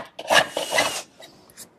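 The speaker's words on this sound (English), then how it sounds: "I'm going to scrape off the excess glue and sand it smooth." Scraping and sanding on a glued-up wooden blank for a pedestal tabletop: two or three close, rough rasping strokes in quick succession, fading to light scratches at the end.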